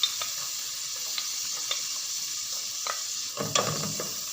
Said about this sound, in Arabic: غنشحر هاد البصله مزيان